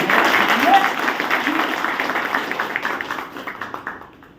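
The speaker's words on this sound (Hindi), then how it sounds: "एक बार जोरदार तालियां" Broad, dense clapping from a crowd fills the clip, loud at first and thinning toward the end, with voices mixed in.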